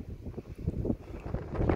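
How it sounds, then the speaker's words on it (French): Strong wind buffets the microphone outdoors beside a parked camper van in a windy area lined with wind turbines, a loud, uneven low rumble that gusts and swells throughout with no one speaking. "il y a vraiment énormément de vent ici"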